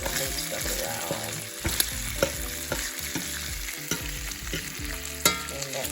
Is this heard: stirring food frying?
yes